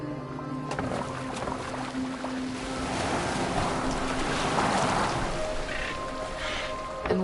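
Boat moving across open water in Assassin's Creed Valhalla, with a steady wash of water and wind beneath low ambient game music, continuous and moderately loud throughout.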